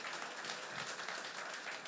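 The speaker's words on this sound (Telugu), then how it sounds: "ఒక్కసారి మాకు మీరే క్లాప్స్ ఇచ్చుకోండి గట్టిగా." A packed hall audience claps together in a steady, even wash of applause, fairly faint and heard from a distance, with no voices over it.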